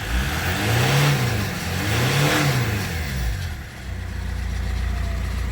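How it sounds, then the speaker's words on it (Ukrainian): An Opel Vectra 2.2 diesel engine is revved twice, climbing and falling back each time, then settles into a steady clattering idle, heard close and loud with no talking. "Авто працює, шумить як дизель,"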